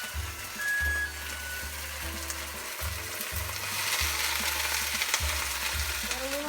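Beans and bean juice sizzling in a pan with Southwest seasoning, a steady broadband hiss with a low rhythmic hum underneath, moderately loud and continuous, with no voices.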